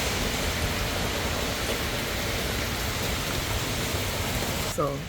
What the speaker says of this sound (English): Anyway, look outside. Raining like crazy.